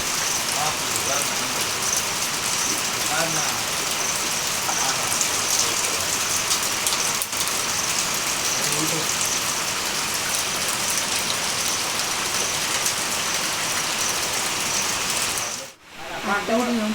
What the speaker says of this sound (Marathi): पाऊस तर खूप जोरात चालू होता